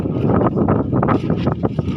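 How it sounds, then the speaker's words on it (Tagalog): Strong wind buffets the microphone in heavy, gusting rushes, a continuous loud roar with no voices. "Lakas ang hangin."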